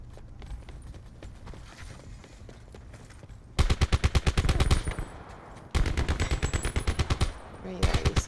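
Shotgun fire in an online multiplayer shooter game, loud rapid bursts of blasts in two long volleys and a short final burst, close and dominant over quieter game sounds.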